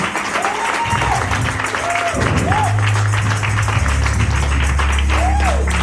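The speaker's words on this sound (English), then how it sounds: "Give our bishop a hand clap of praise" A church congregation claps in praise for their bishop, a dense sustained roar of hands under loud tonal voices and a low organ-like hum that swell through the room.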